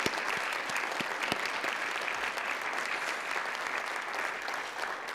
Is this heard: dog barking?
no